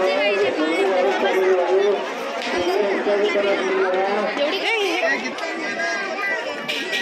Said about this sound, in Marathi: आणि बघा गर्दी किती आहे, अगदी दूरपर्यंत बघितलं तरी भरपूर गर्दी आहे